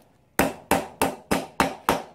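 Six evenly spaced hammer blows tap a steering head bearing race into a motorcycle frame, each a sharp, loud metallic strike with a short ringing decay, close and with no talking.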